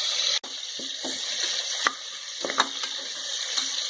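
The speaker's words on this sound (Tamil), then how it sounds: "இப்போ தக்காளி போடலாம். தக்காளி போட்டுட்டு நல்லா வதக்கலாம்." Tomatoes sautéing with onions in hot oil for eggplant kuzhambu, a loud continuous sizzle with repeated spatula scrapes and taps against the pan.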